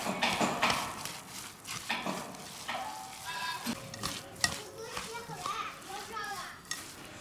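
A spoon stirs a mooncake filling of nuts, sesame seeds, maltose, a little oil and brown sugar for traditional northern Shaanxi mooncakes, with repeated close scraping and sticky mixing strokes. Voices murmur in the background.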